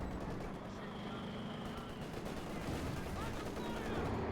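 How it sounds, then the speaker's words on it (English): Game battle audio from Company of Heroes 2 with a Fallschirmjäger machine gun firing: sustained dense crackling gunfire and rattling bursts over a constant roar of combat, loud and continuous without a pause. "Yeah, that's a Fallschirmjäger machine gun."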